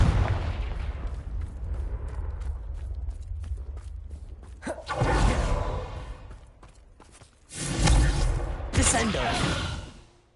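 A Confringo fire-blast spell explodes in Hogwarts Legacy on PS5 as loud whooshing blasts, one around the middle and a longer rumbling burst near the end, over quieter footsteps and background game sound.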